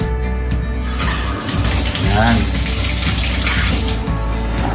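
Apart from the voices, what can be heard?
water running from a newly installed rain shower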